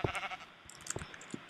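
Minecraft sheep bleating in the video game: one short wavering bleat, then faint scattered clicks and soft game sounds, with no talking.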